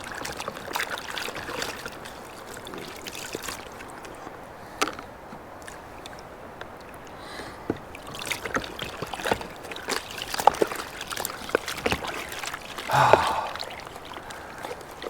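Water from a battery-powered portable camping shower with a 4400mAh battery, trickling and splashing irregularly over dishes at a campsite, with faint clinks and handling noises, fairly quiet throughout.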